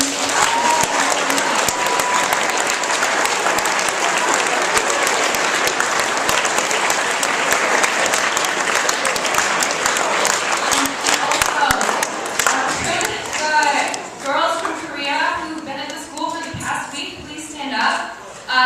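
A large audience at a high school Justice Lyceum event claps loudly and steadily for about twelve seconds, with a few scattered cheers, then the applause thins and a speaker's voice takes over near the end.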